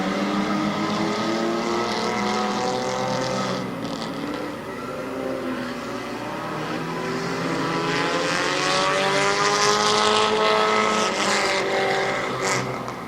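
Race cars roar around the oval at Barberton Raceway Park on the final lap of a September 2013 race, engines rising and falling in pitch as the pack passes, loud and continuous with no talk.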